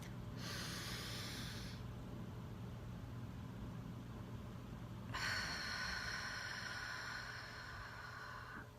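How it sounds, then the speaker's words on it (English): Deep breathing exercise: two long, forceful breaths, a loud airy exhale near the start and another about halfway through, close to the listener with quiet steady background in between. "Shake it out, and then your 3rd breath."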